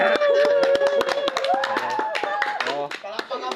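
A group of people on a street clap their hands in a quick burst of sharp, close claps. Talking runs over the clapping throughout.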